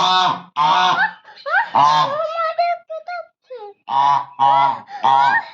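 A mother goose or duck calls loudly and close by as she comes to her young, giving a run of repeated nasal honks with some higher, wavering calls between them.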